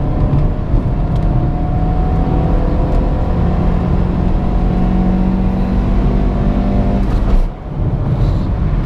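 A JAC J3 Turin with 97,000 km pulls hard in third gear from about 80 to 120 km/h, its engine droning steadily and loudly for several seconds, then briefly dipping as the throttle eases near the end.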